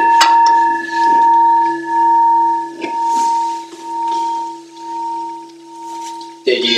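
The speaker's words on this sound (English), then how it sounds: "forgot to ring the bell." A single bell strike rings out and hums for several seconds, its tone pulsing as it decays, then a second strike lands near the end.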